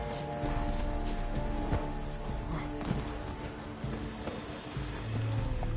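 Horse hooves in The Witcher 3: Wild Hunt, with steady clip-clop beats and creaking tack over a continuous ambient bed, fairly close.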